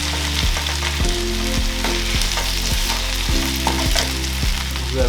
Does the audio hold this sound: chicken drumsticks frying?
yes